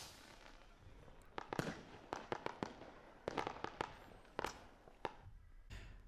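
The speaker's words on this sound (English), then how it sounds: "I'm going to use the fireworks one, which has a public domain license." Fireworks crackle and pop in a rapid, irregular series of sharp bangs, a public domain sound effect, with quieter hiss between bursts and no voices.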